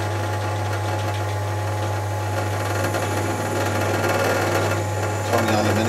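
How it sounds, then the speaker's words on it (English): Drill press boring 5 mm and 7 mm holes through aluminium, a steady motor hum with a constant low drone and rough cutting noise throughout, rising slightly near the end, with no talk. "So, start with the drill press."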